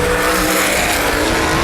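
Sprint cars race at Baer Field Speedway in a Hoosier Outlaw Sprint Series event, loud, steady engine roar from several cars packed together, close and unbroken with no talk over it.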